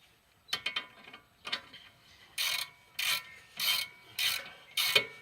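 A ratchet wrench with a 15 mm socket snugs up the strut bolts on a Pontiac G6: a few quick clicks, then five even, rasping ratchet strokes, close and fairly quiet.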